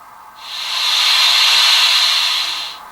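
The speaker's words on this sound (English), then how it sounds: "Number 4 is the steam release." An HO scale Bachmann Spectrum 2-8-0 steam locomotive with DCC sound gives a single bright, airy steam release hiss. It swells quickly, holds steady for about two seconds and fades, close and loud.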